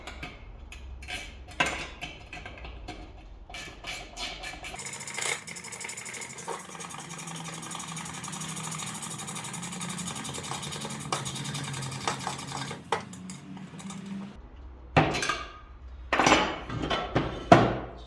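A 10mm spanner tightens a nut on a Fiamma awning bracket on a 2018 MAN TGE VW Crafter van. Close metallic clinks and taps come in bursts at the start and end, with a low steady hum between.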